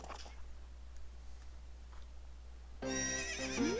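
Horse neighing and hooves in The Legend of Zelda: Ocarina of Time 3D, heard after a quiet stretch as a bright whinny over game music, with a rising tonal sweep toward the end.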